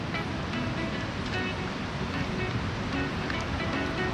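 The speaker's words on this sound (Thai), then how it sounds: "ได้ยินเสียงน้ำไหมครับ" Water rushing steadily near a campsite at Pha Kep Tawan, Wang Nam Khiao, a dense continuous wash with some wind buffeting the microphone and no clear gaps throughout.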